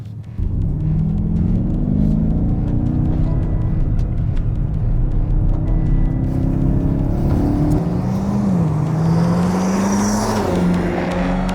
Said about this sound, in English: got the exhaust button on here, so you know that it's going to be loud